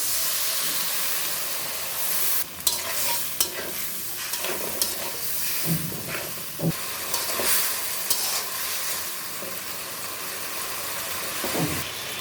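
Potatoes and drumstick pieces with turmeric, chili powder and salt simmer and sizzle in a pan just after water goes in, a steady close hiss with occasional stirring scrapes and bubbling pops.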